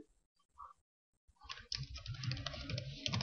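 Fast, steady typing of code on a computer keyboard, a dense run of close key clicks after a brief quiet pause, with no talk over it.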